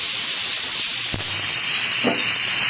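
Chopped cauliflower stems and potato hit a hot pan with a steady, loud hiss of sizzling oil, broken by a sharp knock midway and a brief clatter near the end.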